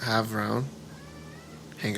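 A small, short-legged cat gives several close, drawn-out meows in quick succession, clear and fairly loud, with no one talking over them.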